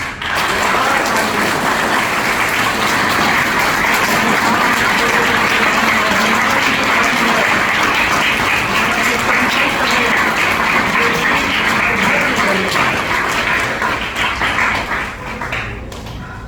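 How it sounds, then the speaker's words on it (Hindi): A school audience at a Dhanteras gathering claps loudly and continuously, a thick, sustained roar of many hands lasting about sixteen seconds before easing slightly at the end. "तो एक बार तेज ताली"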